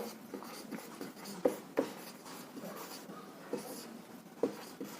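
Pen or chalk writing out examples in a classroom chemistry lesson, faint scratching strokes with a few sharper taps, heard alone and quiet.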